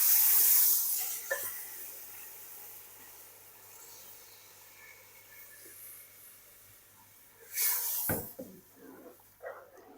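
Lassi poured into a hot pan for kadhi gives a loud hissing burst of sizzle at the start, which settles into a quiet simmer, followed by another sharp hiss and a few clatters toward the end.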